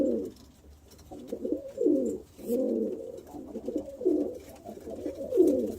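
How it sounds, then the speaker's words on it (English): Pigeons cooing in breeding boxes, a series of close, throaty rolling coos repeating every second or so against a quiet background. "The birds are definitely excited on what's going on"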